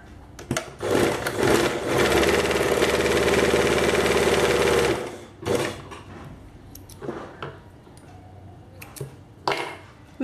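A sewing machine stitching shirt cross pieces together runs steadily for several seconds, a close, loud, fast mechanical whir, then stops and gives way to short bursts and handling clicks.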